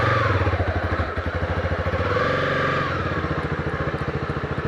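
New motorcycle pulling away from a standstill, its engine note loud and close with a steady rapid firing pulse that shifts pitch as it gets underway; no talking.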